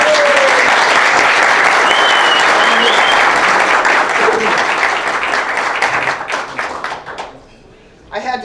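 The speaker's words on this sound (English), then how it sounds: "An applause, please." An audience at a DDMRP conference in Monterrey, Mexico applauds for speaker Carol Ptak with loud, dense clapping that thins into scattered claps and fades near the end before a brief burst returns.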